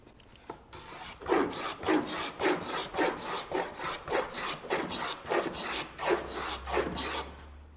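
Rhythmic rasping strokes of a hand plane shaving the edge of a reclaimed white oak board, about ten even passes close by with no talk.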